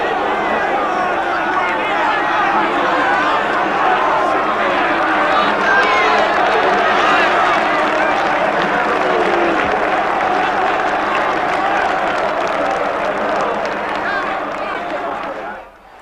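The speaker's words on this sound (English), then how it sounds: "what a day for Brian Clough, getting a great reception from this Tottenham crowd" A Tottenham football crowd applauding at a stadium, a loud, sustained wash of clapping and crowd noise that runs the whole time and fades at the very end.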